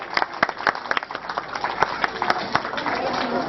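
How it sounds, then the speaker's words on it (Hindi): Applause from an audience at a school annual function, with dense, scattered hand claps of uneven rhythm running steadily throughout and voices murmuring underneath. "तालियों से अभिवादन करें"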